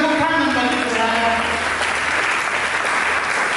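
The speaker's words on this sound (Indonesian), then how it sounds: "Berikan tepuk tangan bagi Tuhan." Congregation clapping during a church sermon, a continuous dense wash of applause that starts over a fading voice and a held tone and carries on steadily.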